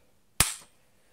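A single sharp crack from a spring-powered Walther PPK airsoft pistol by Galaxy, loud and close, with a quick fading tail in otherwise quiet surroundings.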